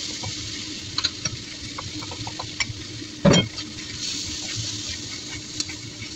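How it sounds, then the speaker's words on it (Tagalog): Pork with beansprouts and green and yellow chives stirring and frying in a pan, a steady soft sizzle broken by light scrapes and one louder clatter of the spatula partway through. "Pan-fry lang ng sandali and then ilagay yung pork. Then ilagay yung tauge."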